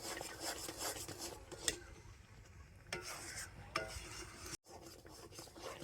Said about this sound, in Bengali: ফুড কালার দিয়ে আমের পাল্পটাকে ভালো করে মিশিয়ে নিয়েছি